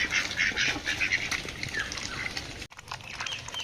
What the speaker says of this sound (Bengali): এই যে হাঁসগুলো বের করলাম